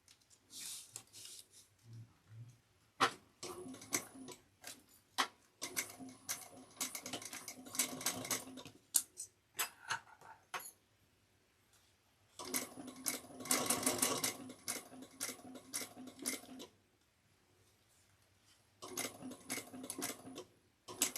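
A sewing machine bastes soft vinyl backpack fabric in several bursts of rapid stitching separated by quiet pauses, close and fairly faint, with small clicks and handling noises in the gaps.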